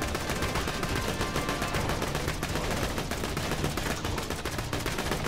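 Sustained rapid gunfire from an infinite-ammo gun in Borderlands 2 (Tiny Tina's Assault on Dragon Keep), loud and dense throughout, a continuous barrage of shots with no pauses.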